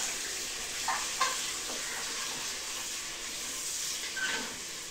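Onions frying in oil for a home curry feast, a steady soft sizzling hiss with a few faint clinks and scrapes of stirring, fairly quiet throughout.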